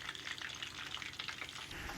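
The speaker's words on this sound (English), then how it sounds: "That was olive oil I was frying it in." Food sizzles and crackles in hot olive oil, a soft continuous frying hiss heard close up without any voices.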